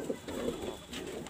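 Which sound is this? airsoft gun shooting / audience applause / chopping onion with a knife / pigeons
pigeons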